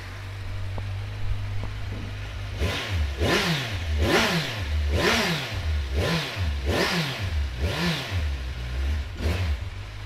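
A 2016 Kawasaki Z1000SX motorcycle starts up close by, settles into a low idle, then is revved repeatedly in a regular series of rising and falling engine blips.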